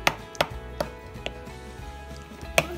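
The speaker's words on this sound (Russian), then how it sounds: "Нарезали одну большую помидорку" A knife chops a large tomato on a cutting board in five sharp, unevenly spaced strikes over a low steady hum, with no talking.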